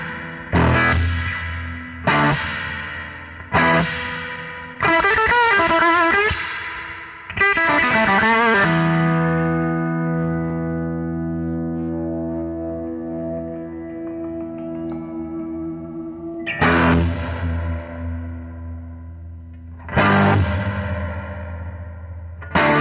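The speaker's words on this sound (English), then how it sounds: "Reverb's only coming through the 10-inch now." Electric guitar through a Fender Pano Verb amp in split mode, reverb routed only to the 10-inch speaker with bass and treble turned fully up: plucked chords and single notes with long, shimmering reverb tails that ring out and slowly fade.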